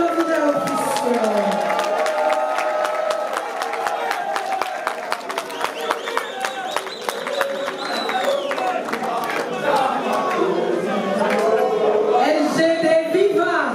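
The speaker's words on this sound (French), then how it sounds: "Mesdames et messieurs, les applaudissements pour le candidat officiel" Large crowd applauding and cheering for an official presidential candidate at an election rally, a dense, steady roar of clapping and shouts lasting throughout, with voices calling out over it.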